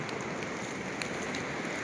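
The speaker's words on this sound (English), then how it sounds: "it's been raining for hours" Steady rain falls on a wet riverbank, a dense, even hiss of drops with a few louder nearby splats and no voices.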